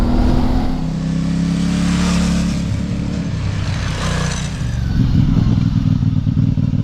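A 2024 CFMOTO 450MT motorcycle engine drones steadily and loudly while being ridden, with a low rumble that swells as the throttle opens near the end.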